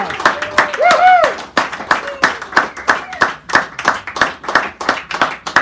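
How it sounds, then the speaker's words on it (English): Clapping and cheering from a café audience at a poetry reading in San Francisco, dense and steady, with a whooping voice rising above it and loud enthusiastic clapping throughout. "Bring her up here with a nice round of applause"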